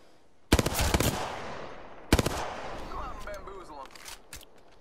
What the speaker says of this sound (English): If you can shoot him.